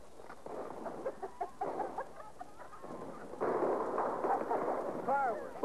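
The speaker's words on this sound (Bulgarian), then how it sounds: "Фойерверк, я вижте." Muffled booms and crackling bursts of fireworks under overlapping talk and cheering from a crowd, the popping growing denser toward the end.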